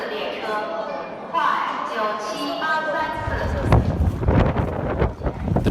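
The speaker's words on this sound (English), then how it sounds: "It was so windy outside." Strong wind gusts outside at a train station in China, buffeting the microphone with a rough, steady roar while people talk over it.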